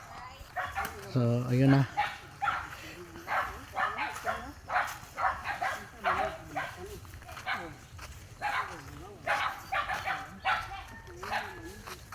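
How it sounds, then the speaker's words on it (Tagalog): Dogs bark and yip in short bursts at people arriving on foot on the walk to a farm to gather young coconuts. The barks are loudest at the start and then recur under continuous talking. "Sinasalubong kami ng ano dito, mga aso."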